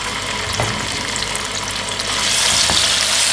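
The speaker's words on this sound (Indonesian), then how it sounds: "minyaknya sudah panas kita tumis tadi cabenya" Ground chilies sizzle and crackle in hot oil in a pan as they are stir-fried, a loud, close, continuous hiss with occasional stirring scrapes, swelling louder near the end.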